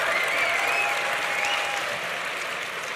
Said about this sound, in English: I think those must be the undergraduates clapping